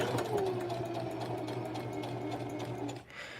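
A sewing machine stitches a jeans hem with a steady, close mechanical whir and a rapid needle chatter. The sound runs almost unbroken, then dips near the end.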